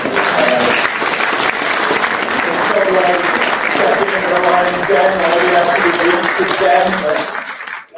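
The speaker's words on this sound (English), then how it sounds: "will you join me in giving a great round of applause to Jane" Audience at a talk breaks into a sustained round of applause, steady and dense for most of the stretch before tapering off at the end, with some murmured voices mixed under the clapping.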